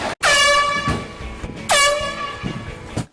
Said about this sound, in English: I got mad with the old air horn prank